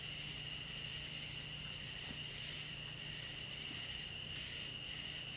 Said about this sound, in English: all we can hear is the tree frogs